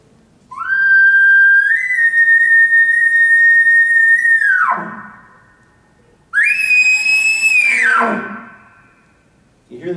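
Two imitated elk bugles made by a hunter on a call, close and loud: a long steady whistle for the location bugle, then a shorter, harsher challenge bugle that wavers and falls into a raspy tail, with a brief pause between.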